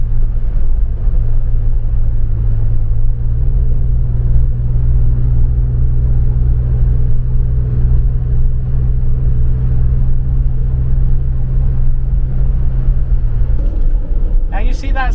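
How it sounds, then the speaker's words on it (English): Ford Bronco Badlands fitted with an aluminum hard top cruising at 65 mph, a loud continuous low cabin drone and motor hum, with a gear shift partway through and a brief rattle near the end. "We got some motor noise. We got some shiftage in the back of the vehicle. We're shifting gears."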